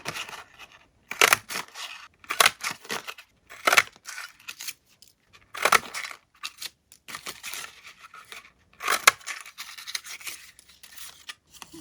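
Scissors snip through small paper scraps and thread in a series of close, crisp cuts, some spaced apart and some in quick runs, with brief quiet pauses between them.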